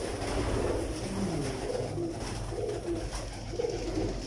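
Teddy pigeons at a breeder's loft coo steadily, several birds overlapping in a continuous low, rolling murmur that stays close and fairly loud throughout.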